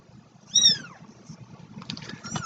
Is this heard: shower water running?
no